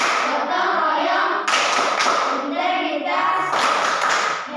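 Classroom of children performing the Tepuk PPK rhythmic clapping chant, sharp bursts of group hand claps in a patterned rhythm alternating with children's chanted voices, close and loud.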